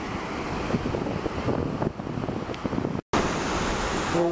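Ocean surf rushing and washing continuously over sand, a broad steady roar with wind noise, cutting out briefly before the waves resume.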